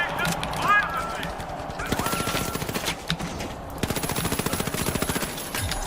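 Rapid bursts of automatic gunfire ring out from a gun in a video game, several rattling volleys with brief pauses between them over game background sounds.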